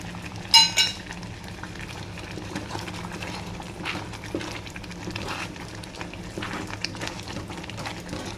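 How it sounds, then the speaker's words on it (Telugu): Spoon scraping and clinking in a steel pot of boiling milk sweet with cardamom powder, a sharp metallic clink near the start followed by steady soft stirring and bubbling, close and fairly quiet. "ఇలా కలుపుతూ ఉండాలి అండి"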